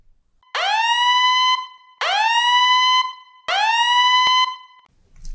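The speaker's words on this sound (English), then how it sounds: "That was the bullshit alarm." A siren alarm sound effect blares three times, each blast sweeping up quickly and then holding a steady wailing tone for about a second before cutting off, with short silent gaps between the loud, close bursts.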